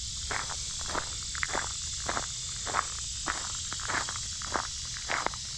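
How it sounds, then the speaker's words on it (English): Tree frogs call in a steady rhythm of short repeated chirps, about two per second, fairly faint over a constant high insect-like hiss on a cooling afternoon on a farm. "I can still hear some tree frogs singing"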